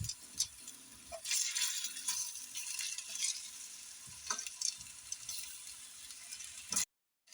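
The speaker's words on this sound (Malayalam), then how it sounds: "പൊട്ടറ്റോയുടെ 2 ഭാഗം തിരിച്ചു മറിച്ചിട്ട് നമുക്ക് ഫ്രൈ ചെയ്തെടുക്കാം." Potato pieces for a Kerala-style potato masala fry sizzling and crackling in a pan, with occasional stirring scrapes, steady and close for about seven seconds before cutting to silence.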